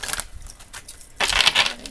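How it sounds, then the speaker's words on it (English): A tarot deck being shuffled for a reading, giving two bursts of papery riffling and rustling close by, the second louder and longer after a brief quieter gap, with no voices. "Final shuffle."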